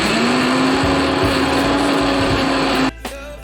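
Mixer grinder blending dried chillies, cumin, black pepper, coriander powder and turmeric powder for crab masala: a loud, steady, high motor whine runs close for about three seconds, then cuts off abruptly.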